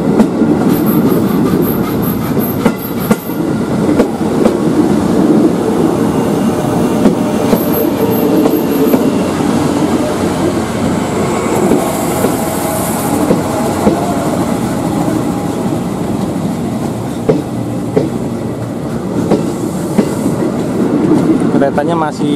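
Elite passenger trains and KRL commuter trains passing on rails, a steady loud rumble of wheels with clickety-clack and brief high squeals throughout.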